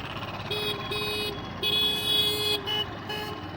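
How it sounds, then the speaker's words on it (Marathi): A car horn sounds during a driving lesson: several short honks in a row over a steady hum of engine and road noise inside the car. "Horn please."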